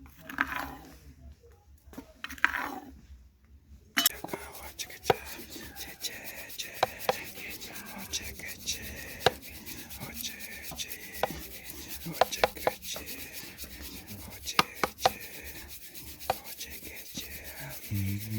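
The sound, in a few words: grinding Arabica coffee by hand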